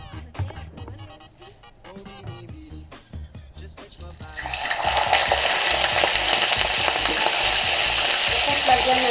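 Plaice fillets fry loudly in a hot pan in a Gothenburg kitchen, a dense crackling sizzle that swells after a few seconds of lighter clatter and then holds steady and close.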